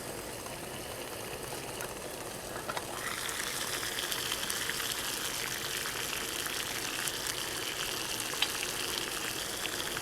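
Tap water comes to a boil on a Minibulldesign Elite backpacking stove, a steady hissing, bubbling simmer that rises a little after a few seconds and keeps going, close and fairly quiet.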